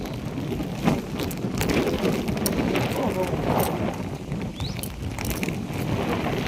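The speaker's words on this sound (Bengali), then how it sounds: "আজ সকাল থেকেই খুব বৃষ্টি হচ্ছে আর তার সাথে ঝড়ের মতো হাওয়াও চলছে" Heavy rain with gusting storm wind on a morning in Rajasthan, a dense steady roar of falling water and rushing air that runs unbroken and loud throughout, with trees thrashing in the gusts.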